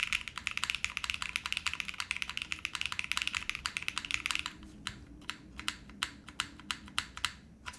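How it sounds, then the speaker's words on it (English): Typing on a custom Molly60 mechanical keyboard with a soft, muted feel, close up: rapid continuous keystrokes that thin into slower, separate taps toward the end. "It's a super soft typing experience."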